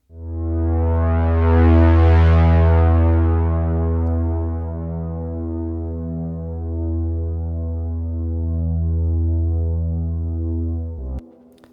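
A Behringer Pro 1 synth tone fed through a long Valhalla Vintage Verb reverb sustains alone for about eleven seconds. It has a slow throbbing low pulse and a bright swell that fades into a lingering wash before it cuts off.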